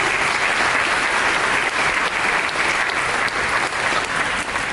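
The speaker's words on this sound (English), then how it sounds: "So can we just applaud Houston?" A convention audience at the Sister Cities International gathering breaks into sustained, dense applause, loud and even from start to finish with no voices over it.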